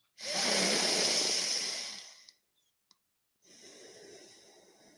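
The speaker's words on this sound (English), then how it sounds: "breathe in through your nose" Two long nasal inhales, the first loud and airy lasting about two seconds, then a pause with a faint click and a softer second intake, close and alone.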